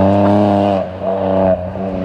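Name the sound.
street-legal rally car engine revving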